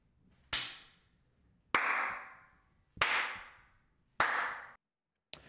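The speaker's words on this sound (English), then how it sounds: "And the hand clap, let's play on bypass." Four single hand claps spaced about a second apart, each sharp crack trailed by a long natural reverb tail from a small bedroom, then a fifth clap cut off at the end.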